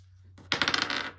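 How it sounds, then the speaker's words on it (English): A twenty-sided die lands and rattles on a hard tabletop, a quick bright clatter of rapid bounces that settles within about half a second, close and alone. "Maybe we can use a dice for that. Let's use a D20."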